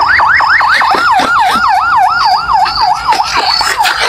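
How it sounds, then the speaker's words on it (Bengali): An ambulance siren arriving at a coconut grove, a loud, close, rapidly warbling electronic wail cycling continuously throughout. "অ্যাম্বুলেন্স চলে এসছে"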